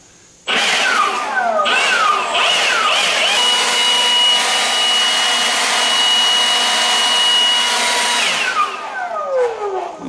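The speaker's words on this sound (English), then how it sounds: "let's take the Milwaukee and we'll just do a little view of that one. We got it on the high-speed mode here." A Milwaukee 18V cordless leaf blower runs on its high-speed mode with a loud, steady rushing whine that starts abruptly and holds for about eight seconds. The pitch shifts slightly as it spins up and again as it winds down.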